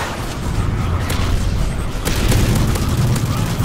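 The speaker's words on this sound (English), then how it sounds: "Get that grenade in there." A grenade blast in the video game Modern Warfare 3 booms loud and broadband amid continuous gunfire and game noise, with a sharp burst near the two-second mark over a dense, steady roar.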